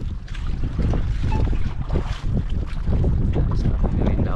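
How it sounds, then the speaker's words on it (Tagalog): Strong northeast monsoon wind buffets the microphone in continuous loud gusts, with rushing water and boat noise underneath. "lakas ng hangin"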